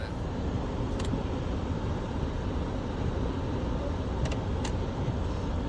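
A 2006 Range Rover L322 engine idles steadily while warming up, a low, even rumble that runs unchanged throughout with a couple of faint high ticks near the start and end.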